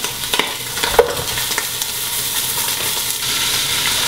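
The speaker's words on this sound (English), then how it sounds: "Over a medium heat, we're putting all the sausages in the pot." Link sausage with casings removed, browning in a pot over medium heat, gives a steady, loud close-up sizzle and fry with a few stirring knocks early on, no talking.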